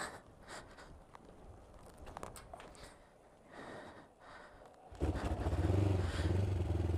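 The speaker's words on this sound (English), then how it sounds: "that is how you jump start a motorbike" A motorcycle with a flat battery is bump started in second gear: clattering rolling noise, then the engine coughs and catches and settles into a loud, steady idle rumble.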